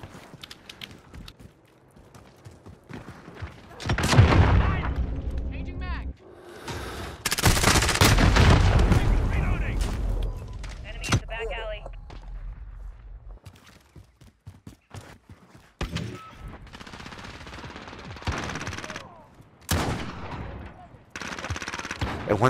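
Video game shooter gunfire in repeated bursts and rapid automatic volleys, loud and close at times, mixed with footsteps and other game sounds while players talk over it.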